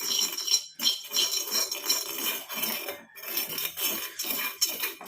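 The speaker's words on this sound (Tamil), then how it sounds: "அதனால தான் நான் கிண்டி விட்டுட்ருக்கேன்" Spice powder being roasted for dusting powder and stirred steadily in a pan, producing continuous rasping scrapes with a rhythmic back-and-forth scratch, close and moderately loud, with brief pauses between strokes.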